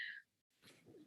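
A single short sneeze, fairly faint and close, with a sharp burst followed by a brief silence and then soft breathy noise.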